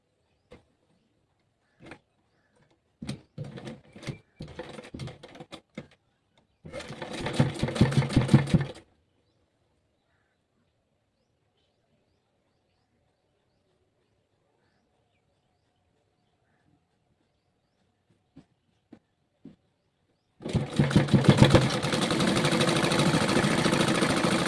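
A sewing machine stitches a kurti along a marked line in two separate runs, a short burst early on and a longer steady whir near the end, separated by light handling clicks and long quiet gaps.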